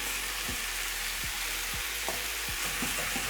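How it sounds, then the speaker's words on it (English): Minced beef stew with diced tomatoes and tomato paste sizzles steadily in a pan, with several short scraping stirs spaced through the clip and no talking. "Stir until combined."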